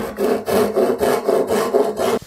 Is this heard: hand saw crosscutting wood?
yes